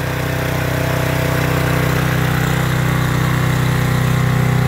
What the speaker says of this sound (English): Our mini jetter, and it really is a great little cleaning device